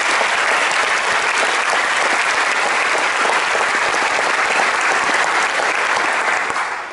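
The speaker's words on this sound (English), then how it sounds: "please join me in giving him a round of applause" An audience at a 2017 high school academic letter ceremony applauds steadily, a dense, loud wash of clapping that holds for about seven seconds before easing slightly at the end.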